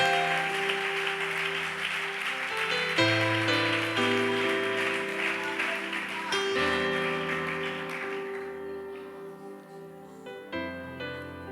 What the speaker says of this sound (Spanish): Un aplauso a la palabra del Señor, por favor.